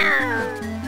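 A single cat meow from The Legend of Zelda: The Minish Cap, a bright, slightly drawn-out cry that falls in pitch, heard up close and alone.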